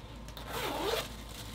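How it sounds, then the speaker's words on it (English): Close zipper pulled down a jacket during an unboxing, one quick rasping sweep lasting about a second, quiet and alone. "But as we unzip the jacket,"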